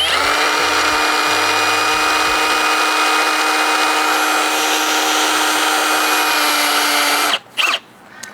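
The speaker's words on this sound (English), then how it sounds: "So I'll drill a hole with my step bit and try not to make it too big." A power drill whines steadily at high pitch while boring a hole with a step bit, then stops abruptly, followed by a couple of brief clunks.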